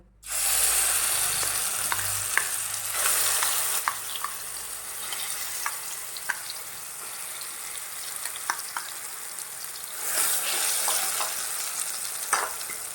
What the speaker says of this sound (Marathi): कढईमध्ये आपण एक चमचा तूप घातलेला आहे आणि गॅ गॅस एकदम बारीक केलेला आहे तर आता आपण हे आवळा मिक्सरमधनं काढलेला तो घालूया